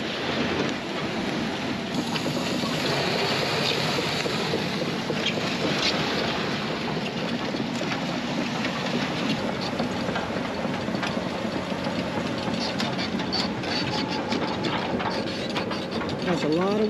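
An old Hyundai 290 excavator tows a heavy sand dredge toward the water, its engine a steady mechanical drone with clanking, ratcheting metal sounds layered over it, continuous and fairly close.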